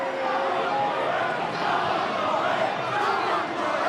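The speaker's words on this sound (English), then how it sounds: "Crowd encourage Jimmy Downey." A football crowd cheers and roars steadily to urge on a player, a loud, continuous wash of massed voices with no break.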